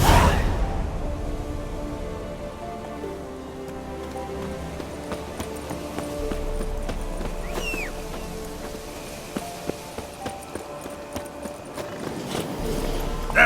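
Hooves of the horse Roach in the video game The Witcher 3, a light rhythmic clip-clop that grows clearer near the end, set against a soft layered music bed and ambient wash.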